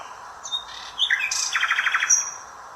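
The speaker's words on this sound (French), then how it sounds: "Un chant d'oiseau" A small bird sings nearby: clear, bright chirps and whistled notes, then a fast trilled phrase of rapid repeated pips, alone against a quiet background.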